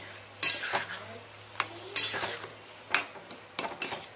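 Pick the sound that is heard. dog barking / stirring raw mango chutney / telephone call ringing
stirring raw mango chutney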